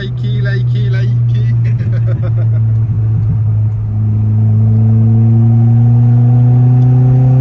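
A small Honda Civic with a turbo engine driven sportily, a loud steady engine drone with rising pitch as revs climb smoothly, filling the cabin from start to finish.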